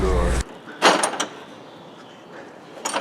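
A drawer on a large Husky toolbox slides open, a brief metallic rattle and rolling scrape following a voice, then quiet, with another short clatter at the end.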